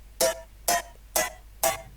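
A second plucky synth with more body, layered into an electronic track's melody, strikes four times in a steady rhythm: bright tonal hits that ring briefly before fading, clear and alone.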